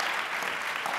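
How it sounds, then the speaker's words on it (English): Brief burst of audience applause in a conference hall at SXSW, a steady hiss of many hands clapping for about a second. "That deserves applause."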